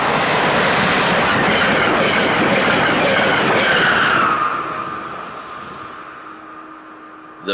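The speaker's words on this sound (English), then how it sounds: "The final train we'll see is eastbound Keystone Service train number 648." An eastbound Amtrak Keystone Service passenger train passes close by on a snowy day, a loud sustained roar of wheels and cars with rail clatter that fades off over the last few seconds before a brief sharp knock at the end.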